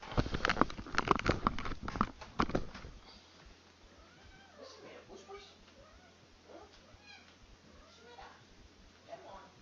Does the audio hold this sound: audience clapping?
no